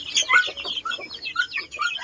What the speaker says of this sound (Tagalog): Yan na po yung ating mga pinakawala na manok